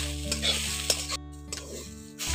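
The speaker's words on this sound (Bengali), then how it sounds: "এখন নারকেল কুড়োগুলোকে একটু নাড়াচাড়া করে ভেজে নিচ্ছি।" Grated coconut being stirred and fried in a wok, a steady soft sizzle under scraping stir strokes, with a few louder utensil scrapes and a short pause near the end.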